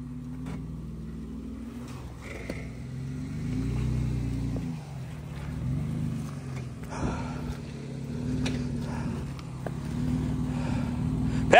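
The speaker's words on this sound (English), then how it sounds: "Yeah, back out of it." A car backs out over steep, uneven off-road ground, its engine rumbling low and swelling as it strains and revs in waves, with occasional thumps and scrapes from the terrain.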